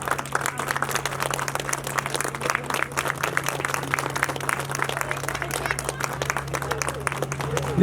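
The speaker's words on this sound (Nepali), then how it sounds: "हाम्रा कृपया जोरदार ताली बजाइदिनु होला।" An audience at a Nepali feature film launch ceremony keeps up a continuous round of applause, steady and moderately loud, with a constant low hum running under it.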